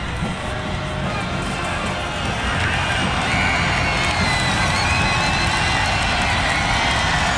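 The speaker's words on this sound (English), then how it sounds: "Crowd here at Alumni Stadium starting to get loud." A football stadium crowd at Alumni Stadium during a college game, Virginia Tech at Boston College, swelling into loud sustained cheering and shouting that builds steadily and fills the whole stretch.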